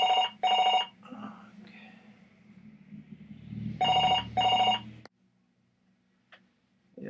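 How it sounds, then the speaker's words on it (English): A landline telephone rings indoors in two double-burst patterns, loud and close, with a muffled voice talking faintly between the rings before the room goes quiet. "the phone's ringing, so I have to go"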